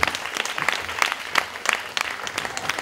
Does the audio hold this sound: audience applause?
yes